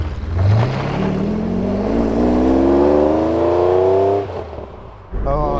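A Ferrari 512 BBi engine revs up loudly and steadily, climbing in pitch for about four seconds before dropping off. A brief second blip of the throttle follows.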